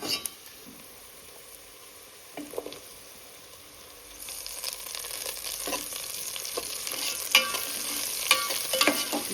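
Capsicum pieces fry and sizzle in a pan as a base for chicken biryani, starting quiet and then swelling to a louder, close hiss with scattered stirring scrapes and taps, without any speech.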